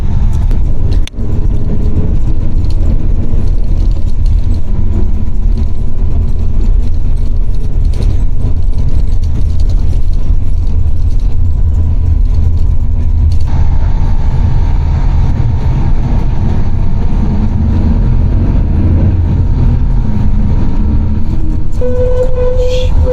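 Steady low engine rumble and road noise inside a moving bus, with faint rattles and creaks throughout and no talking.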